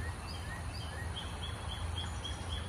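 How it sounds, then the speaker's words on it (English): A bird calls repeatedly near a creek in East Texas, its short, high, rising notes sounding faintly at a steady pace over low background rumble. "Y'all hear that bird? It's so loud."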